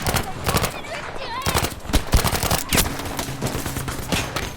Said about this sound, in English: Bordel, une mitrailleuse!